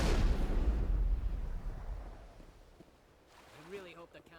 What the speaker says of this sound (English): Someone has one hell of a gun.